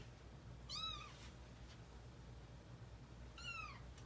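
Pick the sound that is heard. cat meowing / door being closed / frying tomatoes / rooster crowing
cat meowing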